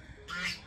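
A goose just shut out of its pen gives a single short, nasal honk, close and fairly loud, lasting under half a second.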